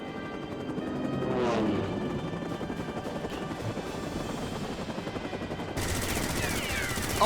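Gunfire in Final Fantasy XIV: dense, continuous rattling bursts of automatic fire mixed with a steady mechanical whir, loud and sustained throughout with game music and effects layered underneath.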